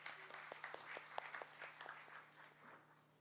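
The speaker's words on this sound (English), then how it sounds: "Please give a huge round of applause." An audience at a valedictory ceremony of an international conference on digital transformation breaks into applause, a distant, fairly faint patter of many hands clapping steadily for a few seconds.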